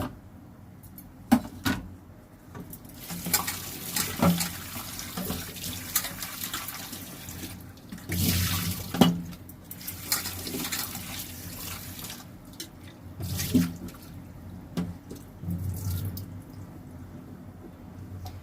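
Water runs from a kitchen tap over medium-thin potato slices being rinsed in a bowl, a steady close splash with intermittent louder gushes and clatters as the pieces are stirred by hand.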